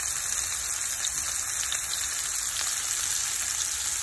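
Sliced mushrooms fry in hot oil in a pan, a loud, dense and continuous sizzle without pause.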